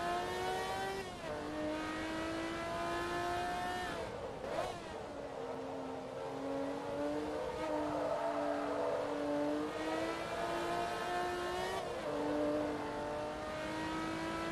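A modified, non-stock Ferrari Enzo racing in the Forza Motorsport 2 video game: a loud, sustained engine note climbing through the revs, with sharp drops at each upshift every few seconds and a brief tire squeal.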